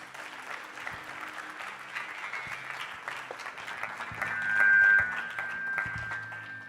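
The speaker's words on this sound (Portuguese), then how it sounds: "Vamos aplaudir ao Senhor." A standing church congregation applauds steadily, a continuous wash of clapping with a sustained tone or hum running underneath and a slight swell near the end.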